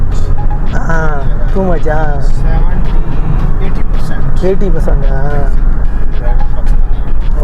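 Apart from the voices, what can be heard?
heavy Saturday night road traffic in UAE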